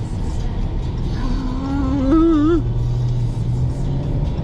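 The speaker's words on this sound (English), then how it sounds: "Because I'm driving and because there's a different app open." Steady low engine and road rumble inside a moving car, filling the whole stretch, with a brief tonal voice-like sound rising over it midway.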